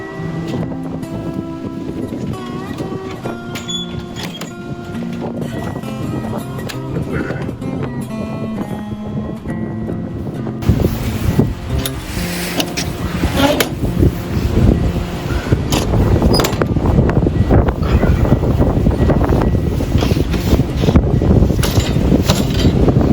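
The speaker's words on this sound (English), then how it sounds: "the wind wasn't supposed to be here till tomorrow. It showed up early." Strong wind gusting through a winter camp at night during a windstorm, a loud, rough roar that builds and stays heavy, with people speaking over it.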